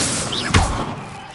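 Bombarda blasting spell cast in Hogwarts Legacy on PS5: a short magical whoosh swells into one heavy, booming thud, then a low rumble fades away.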